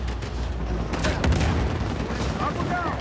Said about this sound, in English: Shoot with your M14 now.